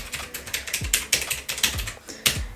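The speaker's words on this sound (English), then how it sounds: "And I love to type on this" A typewriter-style keyboard with light-up keys clacks in a quick, uneven run of close, crisp keystrokes at a home office desk, with no voices.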